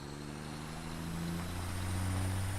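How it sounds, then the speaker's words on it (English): A truck drives along in the factory-building video game Satisfactory, its engine giving a steady low drone with a sustained hum that rises slightly toward the end. "This other truck is just moving without fuel,"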